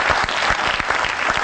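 A congregation at a church service applauds steadily, dense clapping filling the room at full volume with no break.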